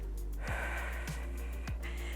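Deep breathing during a home cardio workout, two or three drawn breaths with sharp inhales close to the microphone over a steady low hum.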